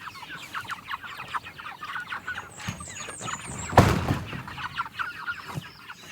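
Meat chickens on an off-grid homestead cluck and squeal in a rapid, overlapping flock chatter as they are moved forward onto fresh grass, close and continuous.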